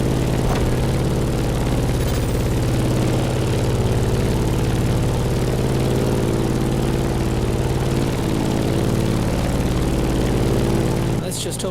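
A steady, loud propeller airplane engine drones on in The Crew Motorfest, flying through turbulence. A dense, continuous hum with a constant low rumble runs almost without change and cuts off abruptly near the end, with a voice speaking over it.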